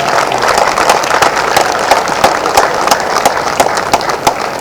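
Audience applauding at the close of an experimental theatre show, a steady wash of many hands clapping at full volume, dense and sustained throughout with no voices on top.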